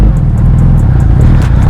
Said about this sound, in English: I'll just rev it once.